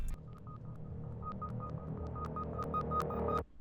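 Dark trap beat transition effect: a murky low rumbling bed with a repeating high blip pattern and sharp clicks that speed up and build, ending in an abrupt cutoff, fairly quiet and alone.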